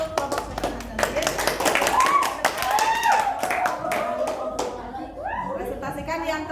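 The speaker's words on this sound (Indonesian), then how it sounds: "tepuk tangan untuk kelompok Sultan Hasanuddin" A classroom of students claps together for a presenting group, a burst of quick overlapping hand claps close by, mixed with children's chatter and a teacher's voice speaking over it.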